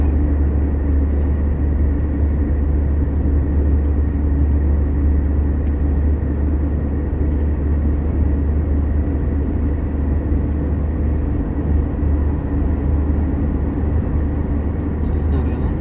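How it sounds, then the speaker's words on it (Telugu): Steady road traffic with buses and cars passing on a highway, a loud continuous low rumble of engines and tyres throughout with no distinct gaps. "చూడండి బళ్ళు ఎట్లా పోతుంటే"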